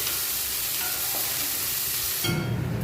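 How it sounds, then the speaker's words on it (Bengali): Chopped garlic and dried red chillies fry in hot oil with a steady, close sizzle, with soft stirring scrapes; the frying swells louder near the end as more goes into the pan. "আর দিয়েছি রসুন কুচি, দিয়ে দেবো শুকনো লঙ্কা লাল লাল করে ভেজে দেবো।"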